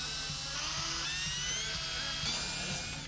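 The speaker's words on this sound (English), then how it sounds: "the holes have been drilled" A power drill bores holes into a car bumper and front splitter on a Supra, giving a steady high-pitched whine that holds for the whole stretch. The pitch shifts a little as the bit works through the material, close up and with no talking.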